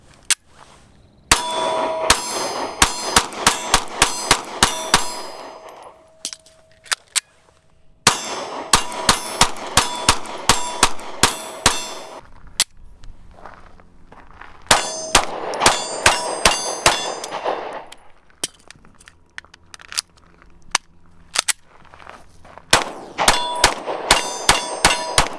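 Springfield Hellcat pistol fired at steel targets outdoors, each shot answered by a bright ringing clang, in four rapid strings of many shots with short pauses between them, loud and close.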